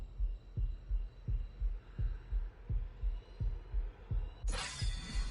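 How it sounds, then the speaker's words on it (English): Heartbeat effect from ARK: Lost Colony on PS5, a steady low lub-dub thumping roughly every 0.7 seconds, with a sudden bright crash bursting in near the end. "that heartbeat sound is enough to drive me crazy though"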